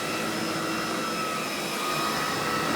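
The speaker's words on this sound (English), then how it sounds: "the vacuum works fine regardless" An Electrolux Epic 3500 SR upright vacuum cleaner runs with a steady, loud motor whine and airflow roar, constant throughout with no voices.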